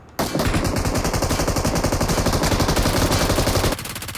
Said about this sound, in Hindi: जब ये गड्डी पे गोली चला रहे हो